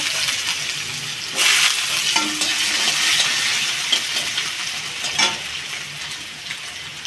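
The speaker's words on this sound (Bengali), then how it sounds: "আলুটা একটু লাল লাল করে ভেজে নেব" Potatoes fry in a pan with a dense, continuous close sizzle, joined now and then by brief stirring scrapes and faint utensil taps.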